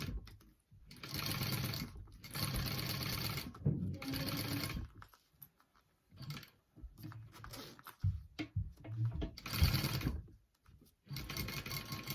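A sewing machine bastes down a clutch wallet pocket, running in several close, loud stitching bursts of a few seconds each, separated by brief pauses and clicks.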